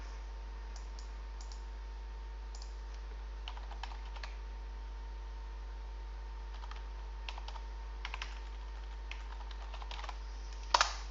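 Light, quick keystrokes on a computer keyboard come in short irregular bursts with pauses between them over a low steady hum. A sharper louder click lands near the end.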